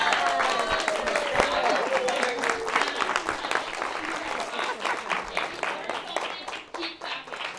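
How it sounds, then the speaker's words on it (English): Sustained audience applause fills a lecture hall, dense clapping from many hands that thins slightly toward the end, with a voice and a faint whistle-like tone drifting through it. "Keep clapping."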